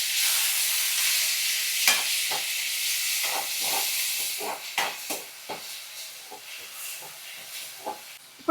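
Onions and green chillies sizzle with sauce in a hot pan for a paneer 65 dish, a constant bright hiss of frying punctuated by scattered spoon stirs and clinks, close and loud with no talking.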